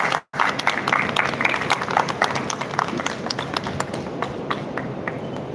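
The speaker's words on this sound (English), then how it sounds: "Give him a big round of applause." An audience at a Sudarshan Pharma live event claps for the guest of honor, a dense, steady round of applause that carries on without a break after a short cut at the start.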